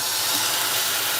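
Potato pancake batter frying in a hot oiled skillet for Brazilian panquecas de batata, a steady loud hissing sizzle that holds evenly throughout, with no voices.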